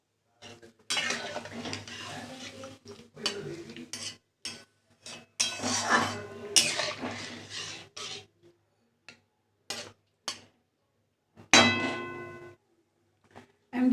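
A metal lid set over a pan of pabda fish cooking with mustard and green chillies: irregular clinks and clangs of metal on metal, with short silent gaps between them.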